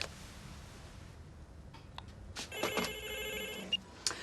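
Telephone ringing with a bright, multi-tone electronic trill that starts after a quiet lead-in and runs steadily for about two seconds, with brief clicks around it, in a domestic TV-drama setting, probably a pub.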